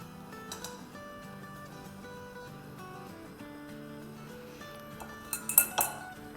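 A chopped salad is tipped from a bowl onto a large plate, giving a short cluster of close clinks and clatters of dishware near the end, with soft background music playing throughout.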